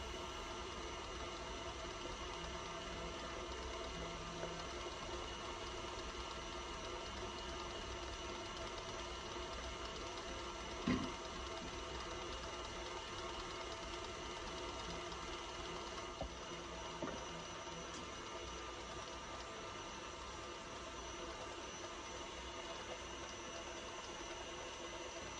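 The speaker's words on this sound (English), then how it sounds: "the sound of the cream being beaten has changed now, and the buttermilk is beginning to separate from the butter fat" A mixer beats cream into butter while the buttermilk separates from the butterfat. The motor gives a faint, steady whir throughout, with a couple of soft knocks.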